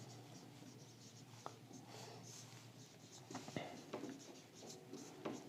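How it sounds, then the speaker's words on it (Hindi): A pen writes on paper while a math problem is worked out, giving soft scratchy strokes with a few sharper taps, close and quiet under a steady background hiss. "तो यहाँ पे लिखेंगे सलमा की आयु"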